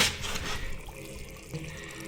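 Water fizzes and trickles as wetted lime-mortar bricks soak up well water, a soft close bubbling hiss with faint drips that is stronger at first and then settles into a quieter fizz.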